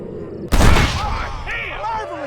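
Gunfire in the Western video game Red Dead Redemption: a loud burst of shots erupts after half a second of quieter sound and rings out over a sustained rumble, with voices talking across it.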